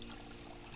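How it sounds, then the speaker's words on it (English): Water pours into a bottle as it is filled in the video game Project Zomboid, a brief, faint, steady trickling with no talking. "Fill the water bottle."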